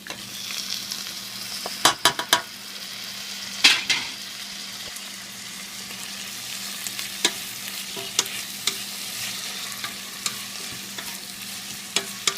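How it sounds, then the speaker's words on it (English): Chopped tomatoes sizzle and fry steadily in a pan, with a constant hiss broken by sharp clinks and scrapes of a utensil stirring against the metal, close and fairly loud with no voices. "I'm going to add tomatoes, chopped tomatoes."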